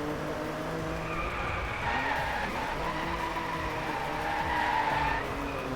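A car drifting in the racing game Driveclub, tires skidding in a long continuous squeal over a steady engine drone, loud and sustained throughout with no talk.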